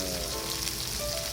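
Yakitori chicken skin sautés in a Teflon frying pan with a short burst of steady, close crackling sizzle, heard alone with no talking.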